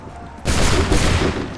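A sudden loud volley of musket fire in Assassin's Creed 3 bursts out as a ragged cluster of overlapping shots, the dense crackle sustaining briefly before fading.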